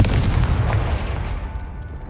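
A Confringo fire spell exploding in the video game Hogwarts Legacy, a loud rumbling boom with a long low roar that slowly fades.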